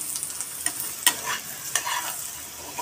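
Onions fry in a pan for egg bhuna, giving a continuous crackling sizzle broken by several sharp spatula scrapes and clicks against the metal.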